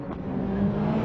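A Viper race car at Le Mans, its engine roaring steadily loud and close as it passes, with a rough low drone that holds for the whole moment.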